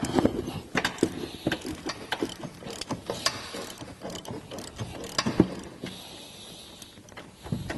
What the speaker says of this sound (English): What we're using here is an 18mm socket with a 3-inch extension.